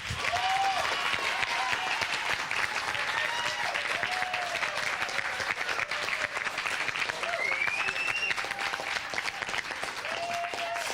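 Sustained audience applause fills a quiz show studio during a Las Lomas versus Woodside round, steady dense clapping with faint whistle-like tones and a few voices mixed in.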